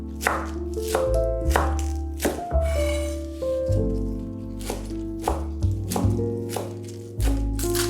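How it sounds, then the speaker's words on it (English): A knife chops finely through fresh spinach on a cutting board, giving crisp, close taps in an uneven rhythm over a steady musical background, with no talk. "Now finely chop 100 grams of fresh spinach."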